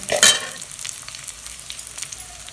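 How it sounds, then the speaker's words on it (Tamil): Ginger garlic paste sautéing for idli kurma produces a continuous sizzle, opening with a loud burst of stirring and spattering that settles into softer frying crackle. "இதோட போட்டு வதக்கிட்டேங்க"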